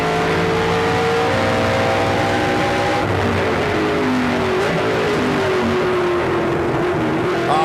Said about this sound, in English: You heard him downshift on the brakes, on the power